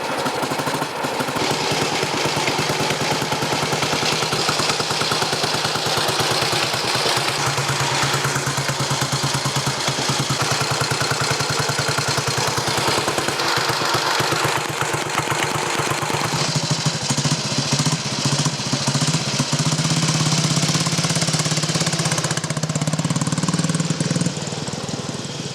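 A vintage Vincent motorcycle engine runs and warms up, a loud, close, rough and steady thumping with hard mechanical clatter that continues without a break and no talking.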